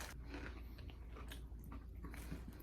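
Crunchy bites into Popeyes fried chicken, several crackly crunches spread over a few seconds at close range, with a steady low background hum and no talking.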